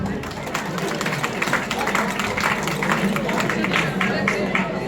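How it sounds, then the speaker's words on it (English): Audience applause in a hall at a party meeting, a dense steady patter of many hands clapping, fairly close and sustained throughout. "we should all clap for ourselves in this hall."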